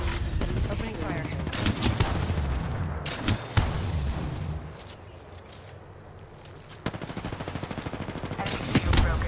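Apex Legends Season 14 gunfire erupts in loud automatic bursts and sharp shot volleys across a battle-royale match, with rapid rhythmic fire returning near the end and game voice callouts mixed in.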